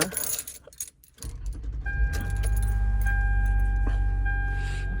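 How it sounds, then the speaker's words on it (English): A 2004 Toyota Highlander engine cranks with a brief starter whir and catches, settling into a loud, steady idle hum close by, after some jangling keys in the ignition. "I'll turn on the car."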